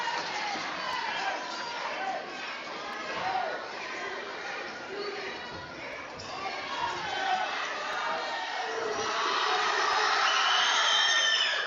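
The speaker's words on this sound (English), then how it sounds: "shuts out all the crowd noise" Crowd noise in a high school basketball gym during overtime of a close varsity game, a continuous roar of fans that swells toward the end, with a commentator talking over it.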